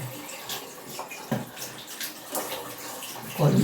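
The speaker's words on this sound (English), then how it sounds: "let me rinse out my feet because this is the soap" Water from a tap splashing and rinsing soap off bare feet, an uneven wet gush with bursts of splatter, close and moderately loud.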